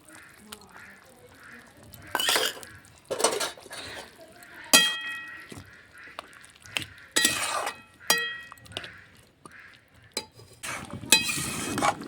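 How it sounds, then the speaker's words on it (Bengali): Mustard and green chilli paste stirred into a pot of home-grown Malabar spinach curry brings intermittent spoon clinks and scraping stirs against the pot, loud bursts separated by quiet gaps. "এই সময় আমি সর্ষে আর কাঁচা লঙ্কা বাটাটা দিয়ে দেব।"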